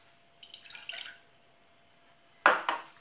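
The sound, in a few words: water poured into a pot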